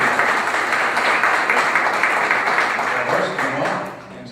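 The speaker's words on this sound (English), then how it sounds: "Would you please give a round of applause for the panel that's up here?" Applause for a cybersecurity panel fills a conference hall, a steady dense clatter of many hands that holds for several seconds and then tapers off near the end.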